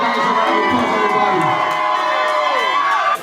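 Concert crowd cheering and shouting loudly and steadily throughout at a freestyle show, dense roar with whoops, tapering briefly at the very end.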